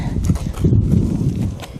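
Hooves of a horse clip-clop as it moves around along a rail in a training pen, several close, irregular thuds over soft dirt, with no voices.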